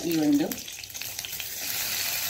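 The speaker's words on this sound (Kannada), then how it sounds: "ಇನ್ನು ಜೀರಾ 1 ಚಮಚದಷ್ಟು ಜೀರ ಬಿಸಿ ಆಗುವಾಗ" Cumin seeds frying in hot oil in a pan, a soft, steady crackling sizzle heard close by with no talking.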